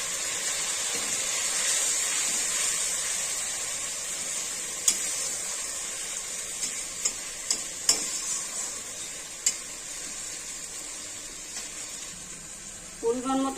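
Ground ginger, cumin, coriander and chilli paste hits hot oil for a rohu fish curry with potato and tomato, giving a steady close sizzle and hiss with scattered clinks of a stirring spoon against the pan.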